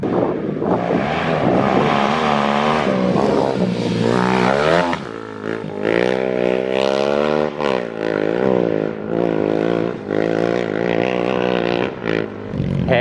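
A 2021 Kawasaki KLX300 dirt bike fitted with a Power Commander roars loudly under hard throttle, its engine pitch climbing, dropping at a gear change and climbing again, with heavy wind buffeting throughout.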